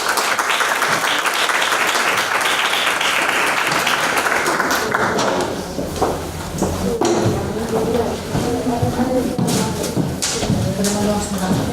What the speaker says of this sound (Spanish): un aplauso a las compañeras